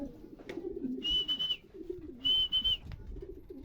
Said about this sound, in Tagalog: Ibong ko guys, nandito na